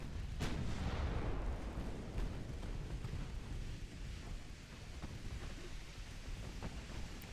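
Naval gunfire from battleships in the video game Ultimate Admiral Dreadnoughts: a distant heavy boom followed by a long rumbling roll and scattered dull thuds over a steady low ambience, fairly faint overall.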